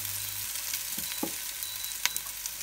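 Garlic and chili fry over low heat in a wok for stir-fried morning glory, a soft steady sizzle close by, broken by a few sharp spatula taps and scrapes, no voices.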